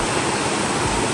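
Coban Rondo waterfall in Pujon, Malang, a loud, dense and steady roar of falling water heard close up, with no voices over it.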